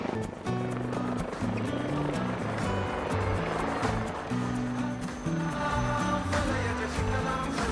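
An HAL Light Utility Helicopter flying at the Aero India 2025 air show, its rotor producing a loud, steady rhythmic throb throughout.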